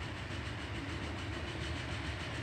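Train running in the video game Transport Fever, a steady, faint rolling rumble with soft rhythmic clatter, heard alone.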